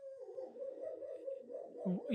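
A dog whimpers in a long, steady whine that rises into short yips and a howl-like cry near the end, close and fairly loud with no other sound over it.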